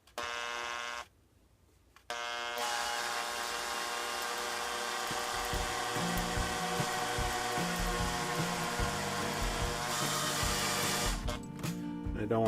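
A drill turns a 21/64 bit through a hole, its motor starting after a brief lull and then whining steadily at close range, the pitch shifting slightly as the bit bites.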